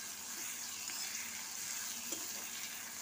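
Onions softened with a pinch of salt sizzle and fry steadily in a pan while being stirred, a constant close hiss with faint scraping, no voices.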